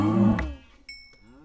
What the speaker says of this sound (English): Come here, cow.